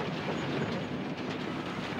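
Steam locomotive 3827 hauling the number 45 Coonamble Mail train on the western outskirts of Wellington, New South Wales, gives a steady, close rolling rumble with faint clickety-clack from the wheels.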